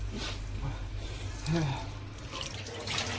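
Water sloshes and splashes softly in a container as lentils are rinsed, with a voice talking over it.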